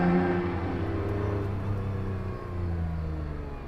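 McLaren F1 V12 engine heard from the cabin, a loud steady low drone with layered harmonics holding through, dipping briefly then swelling again as the car pulls along the mile straight, with no talk.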